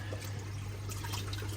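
Water from a reef aquarium's UV chiller pours and trickles steadily at a low level beneath a constant low hum.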